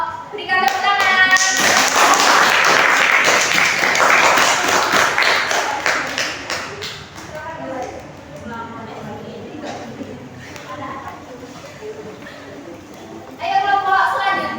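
Classroom group clapping after a group presentation in a school guidance session, a dense burst of many hands for several seconds that fades, with talk and lighter claps continuing beneath voices and a brief renewed patter at the end.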